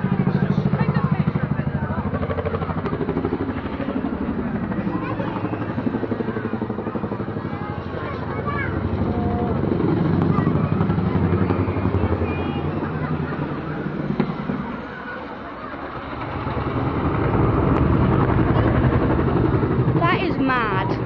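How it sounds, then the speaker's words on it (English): An RAF Chinook twin-rotor helicopter flies at the 2012 Bournemouth air show, its loud continuous rotor thump and engine roar swelling and fading over about twenty seconds, with people talking nearby and a commentator over a loudspeaker. "the Chinook demonstrated its excess of power compared to other battlefield helicopters"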